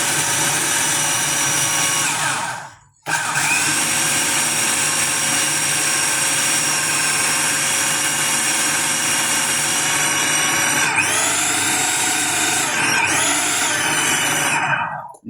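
Cuisinart food processor pulsing sandy quiche crust dough: a loud, steady whirring motor drone running for several seconds, a brief stop, then a long continuous run with the pitch shifting near the end, no talking.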